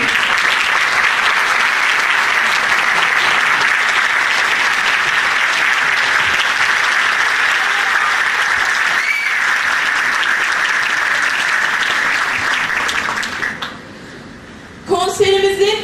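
A concert audience applauds steadily and loudly to welcome the conductor of a women's choir, a dense sustained wash of clapping that fades near the end before a brief burst of other sound.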